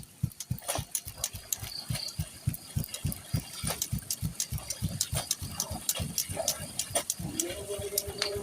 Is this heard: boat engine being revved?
yes